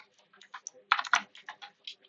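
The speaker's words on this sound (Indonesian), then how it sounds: "Kita mengetik cat" Keystrokes on a computer keyboard as a command is entered in a terminal, a quick irregular run of close, crisp taps with no talking.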